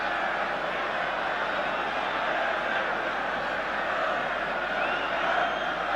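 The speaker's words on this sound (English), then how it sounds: "the Spurs are being shouted on by this huge crowd now" Huge football crowd shouts on Tottenham Hotspur against Anderlecht at a 1983/84 UEFA Cup Final second leg, a dense, constant roar filling the stadium under a commentator's voice.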